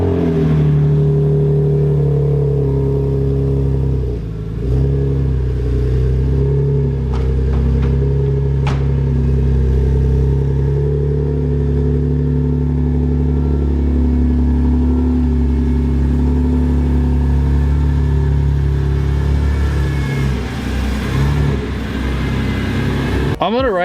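A BMW S54-engined race car at the Nürburgring, its engine droning steadily loud and close with a few revs and swells, while people talk over it throughout.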